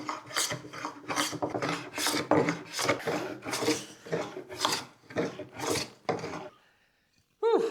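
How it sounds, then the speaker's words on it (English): Hand sanding wood on a Japanese stub tenon joint, a steady series of loud rhythmic rasping strokes, about a dozen back-and-forth passes close up, then a brief pause. "Maybe a little bit of sanding will help."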